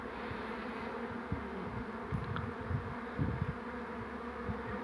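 Honey bees buzz around beehives in an apiary, a faint, continuous swarm drone with individual bees passing close now and then, with no talk.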